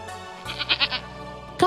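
Goats bleat in a quick wavering series of calls, close by, in a goat-keeping setting, followed by another brief cry at the end.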